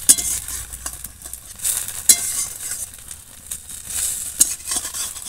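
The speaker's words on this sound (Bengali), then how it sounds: "এক পিঠ ভালো করে একটু ভাজা হয়ে যাক।" An egg fries in oil in a pan for a Bengali dinner dish, giving a steady close sizzle with occasional sharp clinks and scrapes of a utensil, and no talking.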